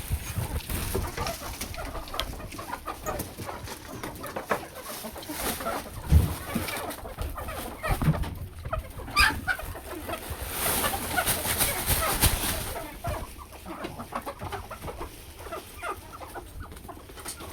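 Several free-range village chickens cluck and chatter nearby over rustling and pecking as they eat greens tossed into their coop, with occasional short calls and some background voices.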